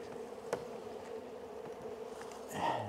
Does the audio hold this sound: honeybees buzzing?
yes